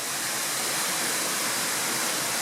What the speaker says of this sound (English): So we're approaching the Diamond Falls. The natural mineral water falling off there.